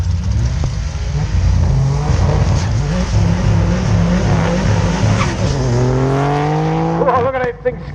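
Mitsubishi GTO 3-litre twin-turbo V6 launching at a drag strip, engine roaring loud and close with rising revs as the tires break loose and skate, squealing toward the end of the run.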